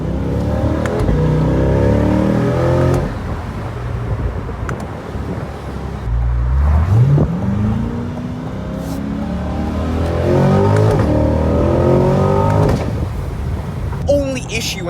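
A car drives along, its engine rising and falling in steady surges as it accelerates, with wind buffeting the microphone throughout and the engine sound close and fairly loud.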